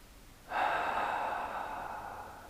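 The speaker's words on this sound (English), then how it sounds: "So take a couple of deep breaths" A long, audible breath drawn in and slowly let out while settling into meditation, one steady airy rush starting abruptly and fading gradually, close and alone.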